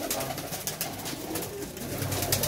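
Pigeons on a city rooftop where a pigeon keeper flies his birds, with soft cooing and bird calls steady over a constant broadband outdoor hiss, no speech.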